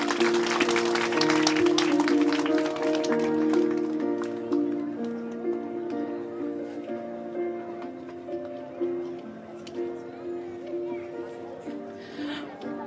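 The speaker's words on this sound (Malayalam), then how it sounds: "നല്ല ക്ലാപ്പ്, നല്ല ക്ലാപ്പ്, ക്ലാപ്പ്." A crowd claps warmly at a children's prize-giving meeting of the Maramon Convention, loud sustained applause that fades after a few seconds while a voice speaks over amplified music.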